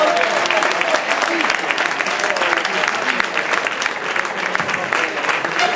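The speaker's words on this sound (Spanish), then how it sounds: "Ese aplauso bonito" Loud, dense applause from a football crowd as a player is introduced at a Celta legends versus football stars presentation, sustained clapping with a voice faintly underneath.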